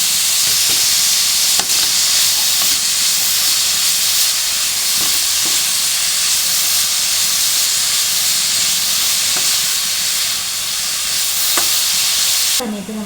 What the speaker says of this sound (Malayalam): ക്യാപ്സിക്കം മുറിച്ചത് നമുക്ക് ഇതിലേക്ക് ചേർത്ത് നന്നായിട്ട് ഇളക്കാം